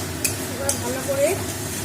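Tomato paste stirred in hot oil in a pan while cooking a Bengali kachori dish: a close, continuous frying sizzle with soft scraping strokes of the stirring utensil and a couple of brief clinks, no talking.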